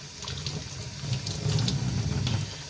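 Tap water running steadily over a plastic ink absorber pad from an HP Officejet 100 Mobile printer while ink gunk is rinsed out, a close, continuous splashing stream that grows slightly louder midway.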